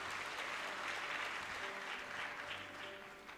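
Applause rises from the audience at a university graduation ceremony, a steady, moderately distant round of clapping that continues for a few seconds with faint background tones.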